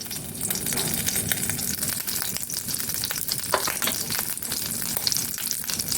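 Butter melting and sizzling in a pan, where homemade paneer is fried for shahi paneer, gives a steady, dense crackle that runs evenly throughout with no voices.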